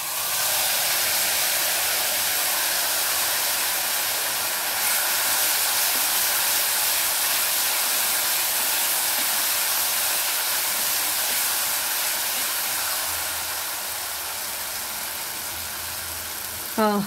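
Spice paste hits a hot pan for cashew paneer in mustard sauce, giving a loud continuous hissing sizzle that holds steady and eases slightly toward the end, while a person speaks over it.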